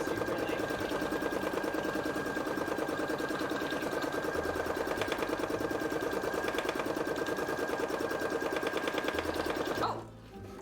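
A sewing machine runs in one long, fast, even stitching burst while sewing vein-pattern fabric for a Resident Evil 7 cosplay costume, then stops abruptly near the end.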